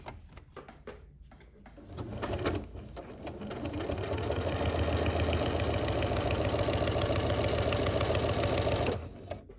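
A sewing machine fitted with a walking foot runs steadily through plastic and coated fabric, a fast even mechanical whir that starts after a brief pause, holds loud and close for several seconds, then stops.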